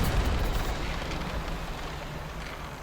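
A fish blowing up in the fishing game Dredge, heard as a broad, rumbling explosive roar that starts loud and slowly tapers off over a few seconds with no talk.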